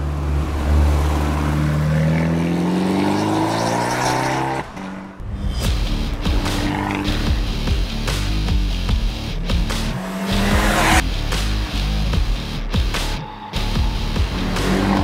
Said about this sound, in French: Chaque accélération s'accompagne d'un bruit moteur évocateur.